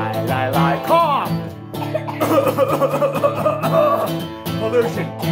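A voice imitates a cough in a children's science song about pollution, with repeated throaty cough-like bursts over sung melody and backing music.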